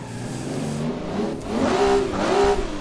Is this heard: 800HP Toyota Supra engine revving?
yes